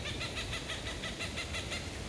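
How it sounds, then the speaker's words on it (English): Out in Ohio woods, a hawk repeats short, evenly spaced high calls, about a dozen in a steady rhythm, faint and distant over a constant low background rumble. "No, that's a hawk."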